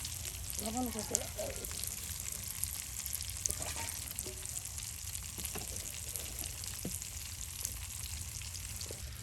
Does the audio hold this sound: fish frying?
yes